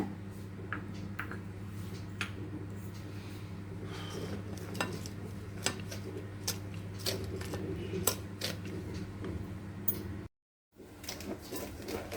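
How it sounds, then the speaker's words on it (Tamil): Powdered sugar being stirred into eggless chocolate sponge cake batter in a bowl, with steady scraping and light clinking of a spoon against the bowl, close and continuous, then a brief silent gap near the end. "இப்போ இது நல்லா மிக்ஸ் பண்ணிடலாங்க"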